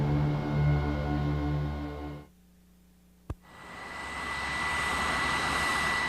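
Loud whine of an A-6 Intruder jet engine roaring on approach to an aircraft carrier, dropping abruptly to near quiet, then a sharp single bang of the arrested landing followed by engine noise rising again.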